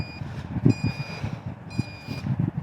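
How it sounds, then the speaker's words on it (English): An electronic warning beep from a 5-inch FPV drone's battery sounds in two repeating high-pitched pulses over low mechanical clatter and rumble nearby. "This beeping's not good."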